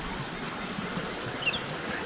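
A bubbling brook along a forest trail gives a steady, soft rush of flowing water, even and continuous for a couple of seconds, with a faint bird chirp midway and no talking.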